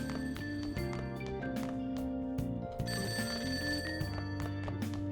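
Telephone ringing inside a video game, a bright electronic bell trilling repeatedly with a musical ringtone layered over it, moderately quiet and steady.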